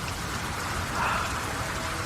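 Steady rain patters and hisses evenly as a sound effect in an Indonesian audio drama, a dense continuous wash of falling water with no voices over it.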